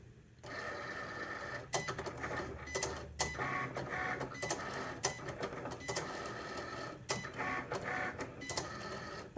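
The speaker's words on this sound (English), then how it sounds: "I have to press the Start button, and the machine starts cutting." A Cricut cutting machine set for heavy cardstock cuts letters, giving a steady mechanical whir with repeated sharp clicks and short bursts as the carriage moves, close and fairly quiet, with no talking.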